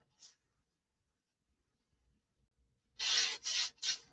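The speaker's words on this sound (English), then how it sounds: "as soon as I get done sanding this thing" Three quick rasping strokes of sandpaper on a doped model airplane airframe, close and fairly loud after near silence, with one faint scrape at the start.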